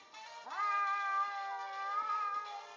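A cat in a cat fight lets out a drawn-out, wavering caterwaul, a single sustained yowl rising then holding, fairly close and clear with no talking over it.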